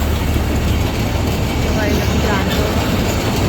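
A train rumbles past nearby at Matheran hill station in a steady, loud roar with low engine drone, and a faint voice briefly audible underneath.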